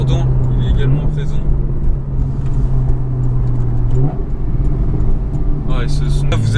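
A Porsche 911 50th anniversary edition engine drones steadily from inside the car while driving, a low sustained hum with shifting pitch, under someone talking.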